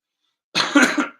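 One short, raspy cough that starts abruptly out of silence and breaks into a couple of quick bursts before fading, close and fairly loud.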